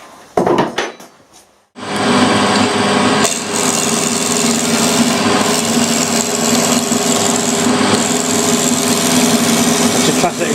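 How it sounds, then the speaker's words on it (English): A Chinese milling machine doing conventional plain milling in a home workshop, with a few knocks before the cut starts and then a loud, steady grinding and whirring that holds unbroken to the end. "That's conventional milling, going into the direction of the cut."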